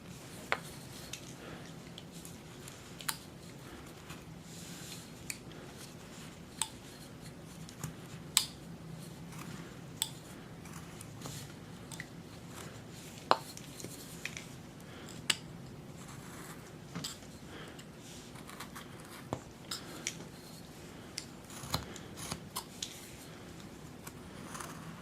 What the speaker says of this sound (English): I'm going to cut up into the top of the hat.